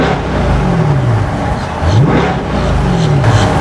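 A Chevrolet Corvette Stingray 1LT in track mode, its engine revving loudly and close with rising and falling whines that swell and dip across several pulls, steady engine roar underneath and no talking.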